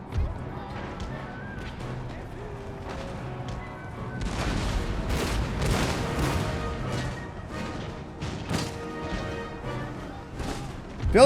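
Mortar fire and musket volleys in the video game Total War: Empire, a battle of scattered booms and crackling shots of varying distance, with a dense cluster of heavier impacts midway.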